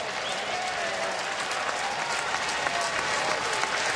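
A baseball crowd at a Mets versus Tigers game cheers and applauds, a broad steady roar of clapping and shouting that holds at an even level the whole time.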